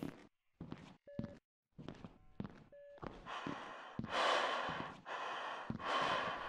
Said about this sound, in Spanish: Está respirando.